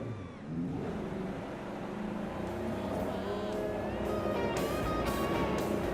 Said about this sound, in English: And you can hear the engines firing.